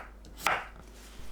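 A knife slices through a cucumber with its ends trimmed, cutting 0.3 to 0.4 cm slices; a single crisp cut lands on the board, near and quiet, with nothing else around it.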